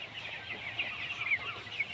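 Broiler chickens in a poultry farm shed give soft, repeated clucks and chirps, a steady chorus of many birds at moderate distance.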